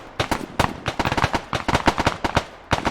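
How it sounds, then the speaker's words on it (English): Rapid, loud bursts of gunfire from Arma 3 combat, sharp cracks in irregular volleys and clusters across the whole stretch with brief gaps, close and dominant with no talking. "Bullets flying."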